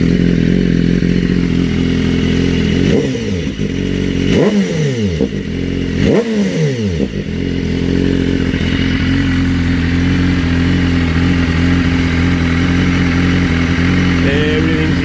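A BMW S1000RR sportbike with its catalytic converter removed and a mid pipe fitted runs loud and close, idling steadily with two sharp throttle blips that rev up and fall back before it settles into a rough, even idle.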